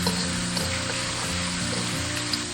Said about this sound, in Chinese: 可以下入花椒，炸个10秒左右。